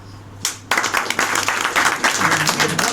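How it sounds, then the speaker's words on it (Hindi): Audience clapping at a motivational talk, starting with a single sharp clap, then a brief pause before a dense round of applause from many listeners that carries on steadily to the end. "ताली बजा दो।"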